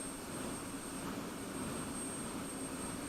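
An F-16C Viper's jet fuel starter spools up in a simulated cockpit. A steady, faint turbine whine holds over a high constant tone and broadband hiss, with no talk.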